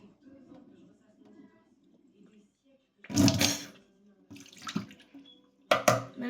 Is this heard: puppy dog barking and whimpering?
no